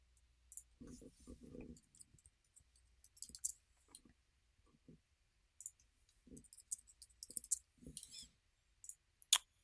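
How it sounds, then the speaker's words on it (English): Mouse clicks land in scattered bursts while someone works through a software application, each click sharp and close, with low talk in between. "I'm just going to click through it as if I was using it"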